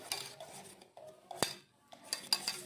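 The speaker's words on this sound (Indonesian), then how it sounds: "Kita aduk terus sampai berbusa seperti ini." A spoon clinks and scrapes against a glass, stirring egg, sugar and baking soda into a foamy mix, with a few light, irregular taps close by and quiet pauses between them.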